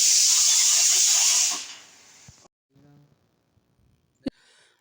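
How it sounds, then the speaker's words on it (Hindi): Steam hisses loudly from a pot of chickpeas and peas boiling in a home kitchen for about two seconds, then fades out, followed by a few faint clicks and one sharp knock. "ये हो रही है तड़के की तैयारी और एक तरफ चना और मटर उबल रही है"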